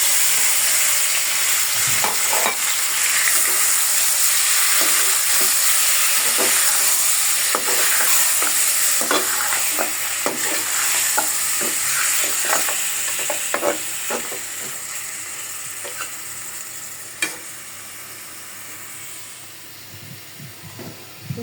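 Marinated meat for a bhuna fries in a pan with a steady bright sizzle, and a utensil scrapes and stirs it in irregular strokes; the frying hiss softens toward the end.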